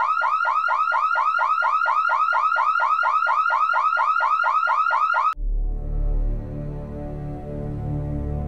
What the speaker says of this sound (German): wir unterhielten uns, als der Alarm plötzlich losging